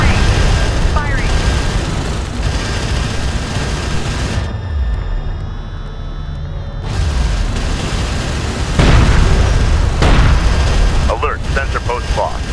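Sci-fi weapons fire and explosions in the real-time strategy game Homeworld: Deserts of Kharak, continuous rumbling booms and bursts of gunfire layered together, loud throughout, with radio-style unit voices over the battle.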